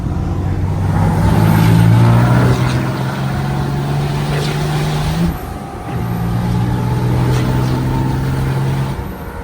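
A Cummins diesel pickup truck with a G56 six-speed roars loudly, revving up twice with a brief dip between pulls, deep and close with a turbo whine.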